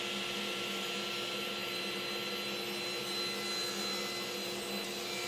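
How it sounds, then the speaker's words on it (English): A table saw fitted with a 50-tooth blade cuts wood to set the height of table legs, giving a steady, loud whining roar with constant high-pitched tones that runs unbroken for the whole stretch, with no talk. "this cut that I'm making now will determine the height of the table legs"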